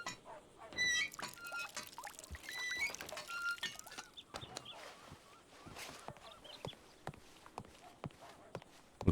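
Water being poured and trickling as it is collected in the video game Red Dead Redemption 2 on a roleplay server, quiet and close, with birdsong, hoofbeats and footsteps around it.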